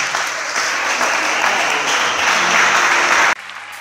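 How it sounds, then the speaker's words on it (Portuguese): Church congregation applauding to glorify Jesus, a loud, dense burst of many hands clapping close by that cuts off abruptly near the end, leaving a quiet room. "Aplauda e glorifique ao nome do Senhor Jesus."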